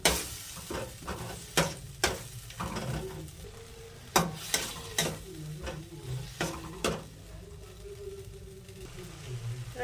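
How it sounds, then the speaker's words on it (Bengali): Sour curd is stirred into a sizzling vegetable mixture with peas and potato in a pan, sharp repeated spatula scrapes and knocks over a steady frying hiss, close and alone. "ভালো করে টক দইটা আমি মিশিয়ে নেব"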